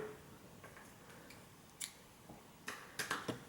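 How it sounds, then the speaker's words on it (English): Scissors cut crochet yarn close by, giving a few quiet, crisp snips and clicks spaced irregularly, with a small cluster of them toward the end against an otherwise hushed room. "go ahead and slip stitch, chain 1, and you can cut your yarn"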